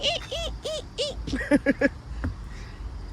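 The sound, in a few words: bird calling outside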